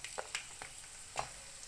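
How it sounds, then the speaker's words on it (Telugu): Garlic sizzles in a hot pan for a garlic, onion and tomato chutney, a soft crackle broken by a few small pops, faint and close. "ఇప్పుడు నేను ఇందులో గార్లిక్ వేస్తున్నాను"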